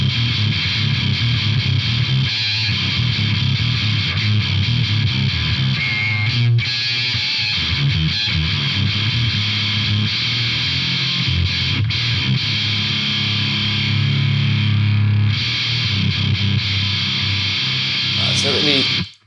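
A guitar runs through a 609 distortion pedal, giving a thick, continuous overdriven tone that sustains loudly with brief dips and shifts, while someone talks over it.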